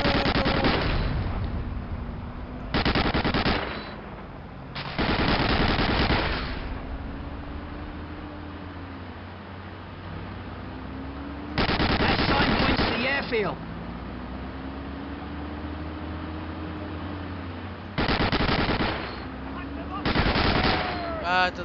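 Bursts of rapid machine gun fire in the video game Medal of Honor: Allied Assault, several loud volleys separated by pauses, with engine-like background hum in between.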